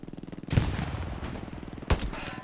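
In the video game Hell Let Loose, bursts of gunfire crack out in a rapid rattling series, with two heavy booming artillery impacts standing out over the continuous shooting.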